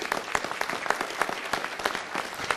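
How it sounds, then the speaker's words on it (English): A city council meeting audience claps briefly as an honoree from an elementary school walks to the podium, a short burst of scattered, fairly close hand claps with no talking. "let's give her a round of applause as she comes"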